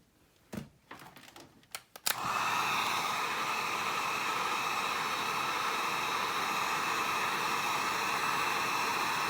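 A hair dryer blows steadily and close on a freshly painted airsoft magazine, a continuous loud airy roar that starts abruptly after a couple of seconds of brief handling clicks and knocks.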